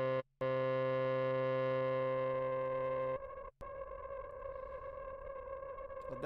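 Steady synthesizer drone from the Surge XT, built on an additive saw oscillator passed through a wave shaper: a dense, buzzing harmonic tone that drops out briefly, then holds loud and continuous, thinning to a rougher, more distorted texture partway through.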